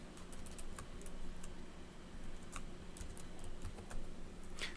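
Quiet, close clicks of typing on a computer keyboard while entering a property value in SOLIDWORKS, a short uneven run of keystrokes over a low background hum.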